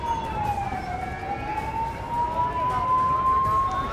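Ambulance siren wailing steadily amid a traffic jam at the Shambhu Border farmers' protest, a sustained rising and falling tone over road rumble and crowd noise.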